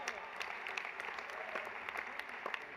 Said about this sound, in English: Can we have a round of applause for Chuck Schumer?